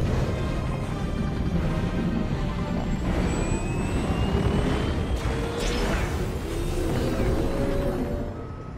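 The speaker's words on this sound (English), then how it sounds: "military aircraft, those are Apache helicopters, they have now just arrived" Apache military helicopters arrive over a city crash site, a loud continuous roar of rotors and engines with whining pitch sweeps that fades slightly at the end.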